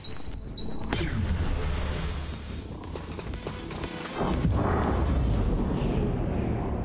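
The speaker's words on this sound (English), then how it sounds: "Throwing grenade." A grenade explodes in the video game XCOM Chimera Squad, a loud boom with a rumbling blast and lingering debris noise, then a second swell of roar toward the end.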